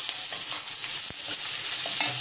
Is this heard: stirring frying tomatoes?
yes